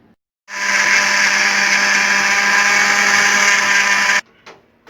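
A kitchen blender purees grapes with pomegranate juice for homemade mixed fruit jam, whirring loudly and steadily for about four seconds before cutting off abruptly into near silence.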